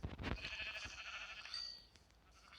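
A sheep in a video game bleats in a wavering, drawn-out cry lasting about a second, with a short sharp burst at the start and steady low background noise.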